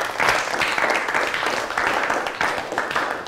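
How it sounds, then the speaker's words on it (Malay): Primary school science class applauding themselves: a steady, dense burst of many hands clapping together across the room, fairly loud and continuous, with a few voices faintly mixed in. "beri tepukan untuk diri masing-masing"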